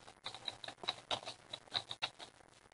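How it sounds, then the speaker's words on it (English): Typing the name into a chart field during computer data entry: a quick, faint run of light key clicks with an uneven rhythm, heard alone with no talking. "all we need to do is start typing the name"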